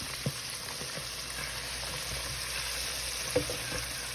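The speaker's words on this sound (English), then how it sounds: "I'm frying shrimp and oyster" Steady, even crackling of shrimp and oysters deep frying in hot oil for New Orleans po'boys, with a couple of faint clinks.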